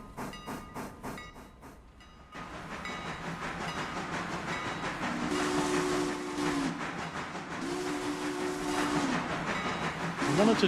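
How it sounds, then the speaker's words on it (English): A steam locomotive whistle in a train simulator game sounds in two long, steady blasts over a continuous rumble and hiss of the moving train, following a brief rhythmic chuffing at the start. "I wanted to do the silly whistle thing."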